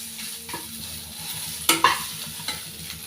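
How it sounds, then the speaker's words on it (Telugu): Gooseberries frying in oil while being stirred, a steady low sizzle broken by a few sharp scraping and clattering stir strokes near the middle, close and moderately loud with no talking. "ఆయిల్ వేసుకొని ఎక్కువసేపు ఫ్రై చేసుకోవచ్చు"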